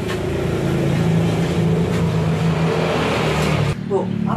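A worn, long-neglected Yamaha Mio S scooter engine runs close by with a rough, buzzing drone that stops abruptly near the end, and voices talk over it.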